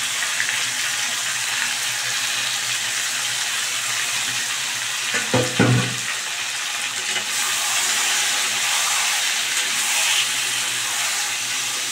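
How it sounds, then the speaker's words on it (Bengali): Marinated chicken for a Bengali chicken kosha goes into a hot pan and is stirred, giving a steady broadband frying sizzle with a brief louder burst of stirring clatter midway. The sizzle then carries on evenly with no talk. "এবার 30 মিনিটের জন্য যে চিকেনটাকে আমি ম্যারিনেট করে রেখেছিলাম সেটাকে আমি এখানে অ্যাড করে দিচ্ছি"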